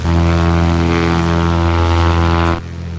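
Carenado C185 piston propeller engine in X-Plane 10, heard with the window open: a loud, steady droning roar with strong low harmonics that drops slightly in level near the end.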